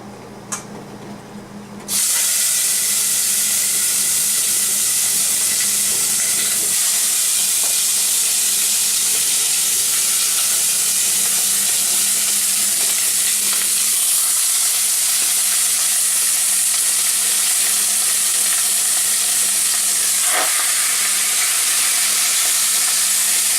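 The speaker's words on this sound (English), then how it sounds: "We're going to start searing our meat now." Chicken and pork searing in smoking-hot oil, a loud steady hiss and crackle that bursts in abruptly after a quiet moment and stays constant and close, with a few faint clinks and no talking.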